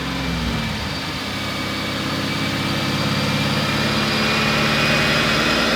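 A Chevrolet Camaro Z28 with a stage 4 build of heads, cam and intake manifold warms up before a baseline run, its V8 idling in a steady, loud, low rumble that holds evenly throughout.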